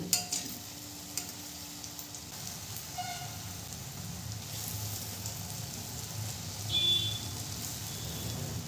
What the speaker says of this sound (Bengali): উল্টে পাল্টে লাল করে আমি বড়াগুলোকে ভেজে নেব